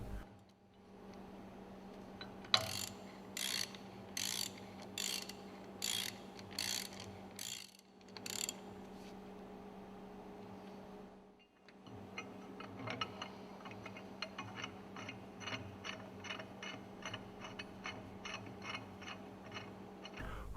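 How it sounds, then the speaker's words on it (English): A crane lifting a piston rod by its lifting bracket during a piston overhaul: a steady mechanical hum runs throughout, carrying two long series of rapid rhythmic ratcheting clicks separated by a brief quiet gap. "Hook the crane onto the lifting bracket. Lift the piston rod clear of the wooden plank."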